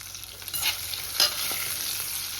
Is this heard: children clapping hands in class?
no